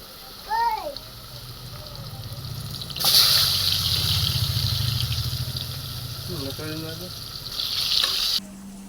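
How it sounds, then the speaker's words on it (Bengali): Water running and splashing as a stone spice grinding slab is rinsed, with a steady trickle through the middle and a sizzle of frying in the background; a voice is heard briefly. "আমি মশলা সিলটা ধুয়ে নিলাম"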